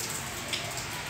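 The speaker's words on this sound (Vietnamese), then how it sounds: "lúc này cũng trời mưa" Steady rain falls outdoors in rural Phu Yen, a dense, even hiss of drops close by with no pauses.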